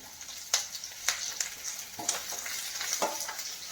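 Green chillies and curry leaves fry in a pan for a Palakkad-style chicken curry, a steady close sizzle with a few sharper crackling pops.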